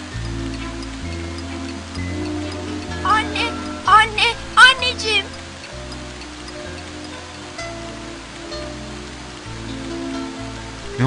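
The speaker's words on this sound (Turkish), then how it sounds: "Yağmur yağıyor. Yağmurun damlaları cama vuruyor." Steady patter of rain tapping on a window pane, with a few short louder clusters of drops, over a low repeating musical background.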